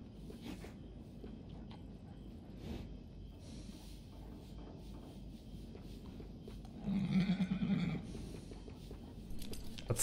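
A horse in Red Dead Redemption II gives a short, quavering whinny midway through, brief and moderately loud over quiet outdoor game ambience.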